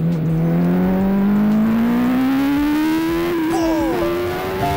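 An MV Agusta F4 sport motorcycle engine revs high and steady between 10,000 and 13,000 rpm, its pitch climbing slowly then dipping, loud and close, with a brief exclamation near the start.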